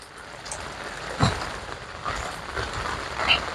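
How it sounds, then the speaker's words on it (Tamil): Steady, dense hiss of heavy rain in Georgia, USA, with a rushing wash of flowing water underneath, continuous throughout with a few brief louder surges. "மழை பெய்து அப்படியே தண்ணி ஓடிக்கொண்டிருக்கு"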